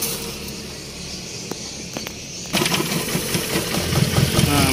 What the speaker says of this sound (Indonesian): Mesinnya sinjal, nggak bisa digas.